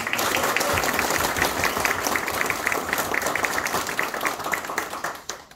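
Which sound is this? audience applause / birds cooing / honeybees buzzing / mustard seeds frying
audience applause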